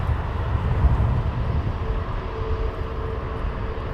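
British Airways airliner making an intersection takeoff at Heathrow Airport, a loud, steady broadband engine roar with low rumble that holds throughout.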